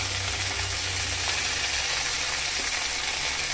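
Water spinach (kalmi shak) frying in a pan with onion and garlic, giving a steady, close, unbroken sizzle with faint stirring scrapes and no talk.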